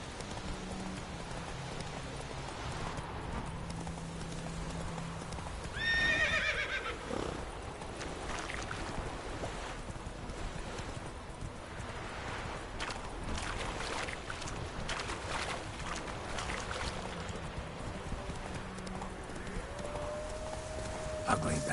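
A horse's hooves clip-clop in a steady run in The Witcher 3: Wild Hunt, with a short whinny early on and a voice speaking over the hoofbeats.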